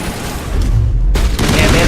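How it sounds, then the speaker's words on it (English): Loud assault rifle fire from the Mass Effect Legendary Edition video game, a dense close burst of rapid shots with a short dip midway. "Sad ću da uzmem, brate, assault rifle."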